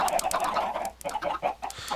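A flock of Minecraft chickens clucks in quick overlapping bursts, several birds close by and fairly loud, with no one talking.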